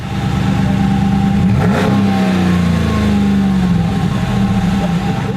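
2016 Ram 1500 HEMI police truck accelerating hard on a course, a loud, close engine roar rising in pitch through the gears with a brief shift dip, no talk.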